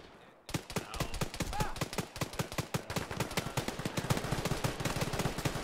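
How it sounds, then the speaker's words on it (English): Rapid automatic gunfire in the military shooter Arma 3 rattles off in dense, steady bursts after a brief quiet start, loud and close, continuing without pause. "Where's the shots coming from?"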